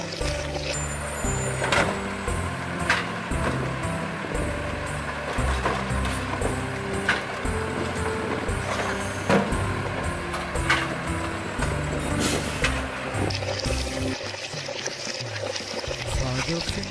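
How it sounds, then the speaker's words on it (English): A garbage truck rumbles with mechanical clatter, hissing bursts and faint beeping, mixed under steady music and a voice. "Garbage truck."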